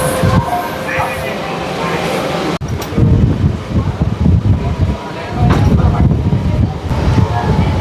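A Panvel–Thane slow local train pulls out of Kharghar railway station, heard from on board as a loud rumble and clatter with wind buffeting the microphone and a few sharp jolts along the way.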